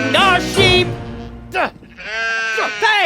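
Sheep bleat in loud, wavering cries close by, several calls in a row over a rural night scene, with other voices around them.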